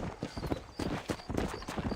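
Hooves from a horse in the Red Dead Redemption video game clip-clop in a steady, close walking rhythm, each footfall crisp and distinct, with faint game ambience underneath.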